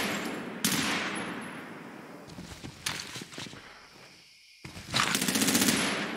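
Machine gun fire from the military shooter Medal of Honor: Warfighter comes in loud sustained bursts with scattered shots between them, a brief silent gap, then another heavy rattling burst.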